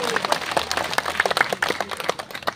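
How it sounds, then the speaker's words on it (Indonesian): An evening audience at a religious lecture, mostly women, gives a burst of brisk, dense applause for a police officer. The clapping is close and continuous, with a few sharper cracks in it. "Minta tepuk tangannya buat Pak Polisi."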